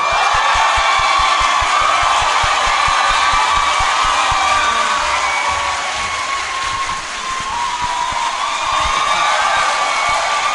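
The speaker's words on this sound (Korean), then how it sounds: "박수를 아주 살짝만 쳐주시길 부탁드리겠습니다" An audience at a Cheongju talk concert cheers and applauds in a dense, sustained roar of crowd noise that stays loud and unbroken throughout.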